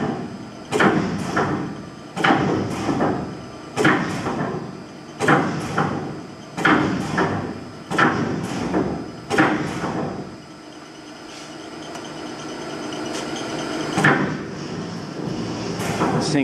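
A reconditioned 300-ton Niagara SSDC mechanical press cycling in inch mode in a warehouse, giving a steady series of heavy clunks about every one and a half seconds, then a quieter stretch with a few lighter knocks.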